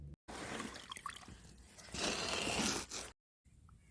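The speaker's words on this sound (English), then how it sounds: "I'm going to finish letting this hide drip out" Water trickling and dribbling off a soaked deer hide draped over a sawhorse onto cardboard, an uneven wet patter that swells and fades, with brief silent gaps.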